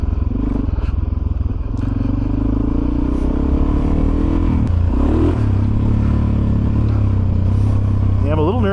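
A Suzuki DRZ400SM supermoto motorcycle rides a dirt trail on Rampart Range, its single-cylinder engine droning steadily with rises in revs and loose clattering from the track, heard close from the rider's position, with a voice talking over it.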